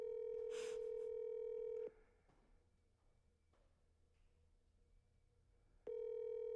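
An outgoing phone call rings out unanswered: a steady electronic ringback tone sounds for about two seconds, then four seconds of near silence, then the tone starts again, clear and alone.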